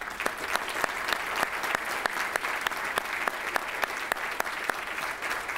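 Audience at a military awards dinner applauding, a steady, even roomful of clapping with sharp individual claps standing out at a regular pulse and no talk.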